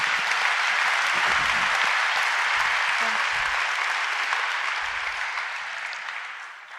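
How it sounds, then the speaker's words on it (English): An audience applauds steadily at a corporate empowerment event honoring the company's owners, a dense wash of clapping that holds for several seconds and slowly tapers off toward the end. "The owners, that deserves a round of applause."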